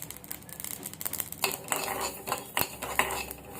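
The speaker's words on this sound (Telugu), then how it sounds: "మంచి కలర్ వచ్చే వరకు ఇలా కలుపుకుంటూ వేపుకోవాలి." A utensil stirs two tablespoons of mustard seeds and one of fenugreek seeds as they roast in a metal kadai, giving close, irregular scraping and rattling clinks that grow busier partway through.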